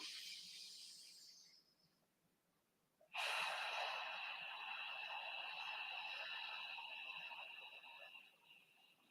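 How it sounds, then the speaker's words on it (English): Slow cleansing breaths during a qigong practice: a soft breath fades out, then after a quiet gap a long, steady hiss of air pushed out through pursed lips, close and alone. "breathe in through the nose and out through a pinhole through a mouth"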